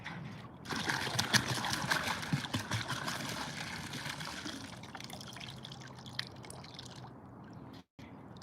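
Water drains from a spinning musical instrument, giving a continuous trickling, splashing flow that is loud at first, then gradually tapers and fades before a brief cut near the end.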